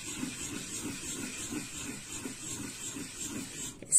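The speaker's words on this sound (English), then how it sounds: "Now, we have to start rubbing the wood against the stone." A piece of sandalwood rubbed on a wet stone to make paste: a steady, rhythmic rasping scrape repeats back and forth at close range, with a small knock at the end.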